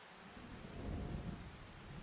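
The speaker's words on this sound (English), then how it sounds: "Oh, it's raining." Rain falls in the video game Farming Simulator 25, a steady soft rushing patter with a low rumble underneath, fairly quiet and continuous, with no talking.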